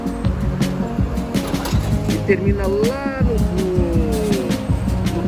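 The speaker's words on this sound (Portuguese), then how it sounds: "Essa que está passando os carros." Cars pass along Rua Figueiredo Magalhães, a busy street in Copacabana, Rio de Janeiro, with a steady wash of traffic and engine noise continuing under someone speaking throughout.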